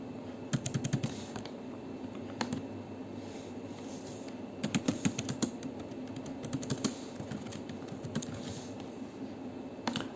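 Typing on a computer keyboard while entering tax invoice data; quick bursts of light key clicks come in irregular clusters over a steady background hum, close and moderately quiet, with no talking.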